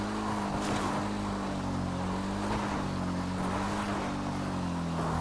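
Steady engine drone of a vehicle being driven in GTA Online while scoping Cayo Perico, continuous and fairly loud with a slowly shifting pitch and no pauses.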